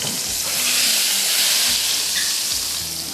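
Hot tadka tempering poured into dal gives a loud, steady sizzle and hiss of frying with crackling bursts, close and continuous, no talk.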